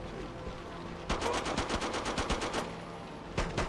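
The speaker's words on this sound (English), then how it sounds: "And then get shot by that guy." Gunfire in the horror game Forbidden Siren 2: a loud rapid burst of automatic shots lasting over a second, then a shorter burst moments later, ringing over a low ambient game drone.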